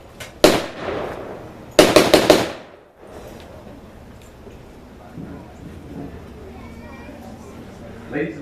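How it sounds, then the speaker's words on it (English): Loud gunshots from an M1911A1 .45 caliber semi-automatic pistol at a live firearms demonstration: one sharp report, then a quick burst of four close shots, followed by a quieter crowd murmur. "the M1911 A1 45 caliber semi-automatic pistol."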